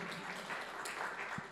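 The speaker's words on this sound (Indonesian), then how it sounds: "tepuk tangan yang meriah untuk kemuliaan Tuhan" A church congregation applauds, a dense wash of many hands clapping together, steady and fairly loud for a brief moment with no break.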